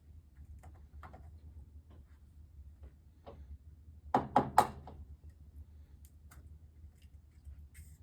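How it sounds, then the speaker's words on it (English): A few quick taps of eggs being cracked against a hard edge, two or three sharp knocks close together near the middle, with quiet kitchen background before and after. "you're going to take your eggs and you're going to crack as many as you want"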